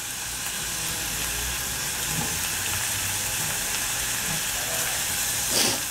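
Garlic dropped into wilted onion frying in a pan, giving a steady, even hiss and sizzle throughout, with a slight flare of crackling just before the end.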